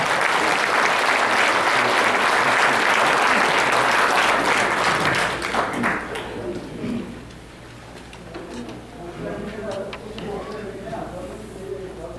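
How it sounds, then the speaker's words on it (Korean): Audience applause greeting a speaker taking the stage at a Korean CBMC Christian business conference in Los Angeles, loud and dense at first, then thinning into scattered claps and fading by the end. "큰 박수로 환영해 주시기 바랍니다."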